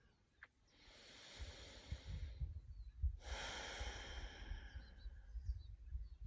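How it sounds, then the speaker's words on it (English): A person outdoors takes slow, deep breaths: two long, airy exhales close to the mic, separated by a short pause, with faint low wind rumble underneath. "taking some deep breaths"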